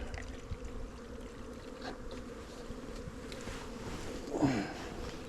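Honeybees buzz steadily around an open, very active hive during a spring varroa mite check, a low continuous drone with a few louder passes close by.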